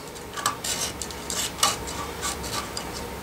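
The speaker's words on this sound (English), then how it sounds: "you can come in with your utility knife and just kind of scrape that away" A utility knife scrapes old foam surround off the frame of a JBL car speaker from a Toyota Tundra or Sequoia, giving close, short rasping strokes in an irregular rhythm.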